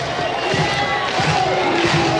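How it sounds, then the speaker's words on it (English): An excited college baseball crowd at Nebraska versus Auburn in a tense regional-style atmosphere, a steady wash of cheering and crowd noise with speech mixed in, loud and continuous throughout. "Crowd getting into it."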